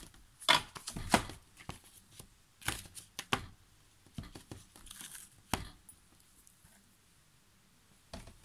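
Tarot cards shuffled by hand, heard up close as quick riffling bursts and soft slaps, repeated in uneven clusters with short pauses between them and near silence toward the end.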